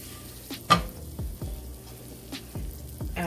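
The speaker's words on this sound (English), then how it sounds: "So this is our butter we're putting in here." Butter sizzles in a pan with onions, garlic and scallops, a soft frying crackle under a series of scraping and clinking stirs, close and fairly quiet with no voices.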